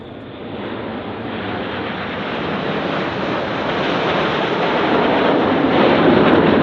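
Red Arrows jets at the RIAT 2025 airshow passing with a loud, broad roar that swells steadily as the formation approaches, accompanied by wind buffeting on the microphone.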